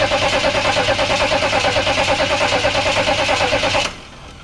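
A 6.2/6.5 turbo diesel engine with a fuel system problem is cranked by the starter, a steady loud rhythmic churning that continues for about four seconds and then cuts off abruptly.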